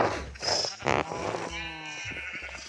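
Sheep bleating in the video game Minecraft: one wavering, nasal bleat rises clearly after some brief scuffling noises, then fades out.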